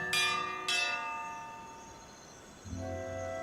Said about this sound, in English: Who's rung the bell and why?